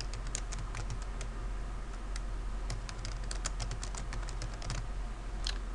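Fingers typing a document name on a computer keyboard, a quick, continuous patter of soft key clicks in short bursts, fairly faint against a low background hum.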